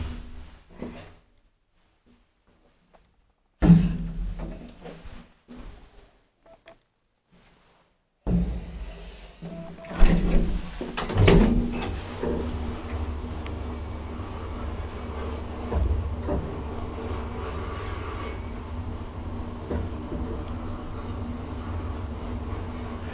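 An old mid-1960s Valmet-Schlieren traction elevator in Rovaniemi clunks as its door works, with sharp knocks and bangs followed by the steady rumbling hum of the car running.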